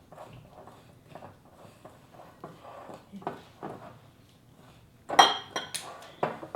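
Apple squares dough being stirred in a mixing bowl, with soft scraping and intermittent utensil clinks that grow louder and sharper near the end, no talking.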